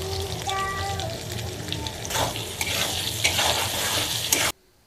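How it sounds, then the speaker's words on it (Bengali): Cut potatoes frying in oil with turmeric and salt for a cauliflower curry, a close, continuous sizzle with stirring scrapes and a faint tonal whine in the background, ending abruptly. "এবার আলুগুলো প্রথমে সুন্দর করে ভেজে নিব, একটু হলুদ লবণ দিয়ে ভেজে নিব।"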